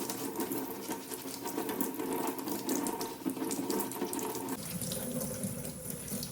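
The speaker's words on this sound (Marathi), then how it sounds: "आता हे पान आपण नळाखाली स्वच्छ धुवून टाकूया." Tap water runs steadily into a sink while a papaya leaf is washed under it, a quiet continuous splashing whose tone shifts partway through as the flow is disturbed.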